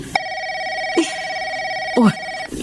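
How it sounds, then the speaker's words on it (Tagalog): A telephone rings with a steady electronic tone that cuts off and repeats, loud and near, while a couple of short voice sounds break in briefly. "Nagre-ring yung telepono natin."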